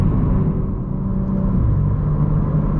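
BMW M3 fitted with an IRL midpipe and AA downpipes, heard from inside while driving: a loud, deep exhaust drone and rumble that holds steady, then drops in pitch partway through as the revs settle.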